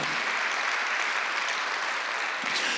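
A church congregation at a Sunday worship service applauds in a dense, steady wash of clapping that holds evenly throughout without pause.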